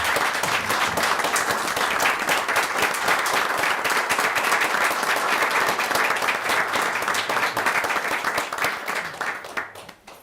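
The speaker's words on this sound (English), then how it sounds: "I think they need a round of applause from us." An audience at a school board work session applauds students and coaches with loud, sustained clapping from many hands. It holds steady for about nine seconds, then quickly fades out.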